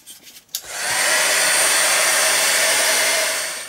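A handheld dryer blows steadily over a painted art journal page, a loud close whirring roar that starts abruptly after a brief clatter and holds for several seconds.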